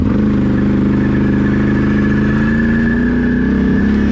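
A Can-Am Outlander ATV in four-wheel drive revs its engine up in a loud, steady, close-up drone that climbs slightly in pitch, with no voices over it.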